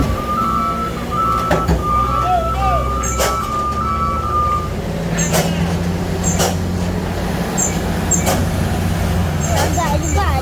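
A long red truck in a traffic jam on the steep Sitinjau Lauik climb near Padang, with engine drone and road rumble, a steady beeping tone early on and sharp clanks, heard close and loud while people talk.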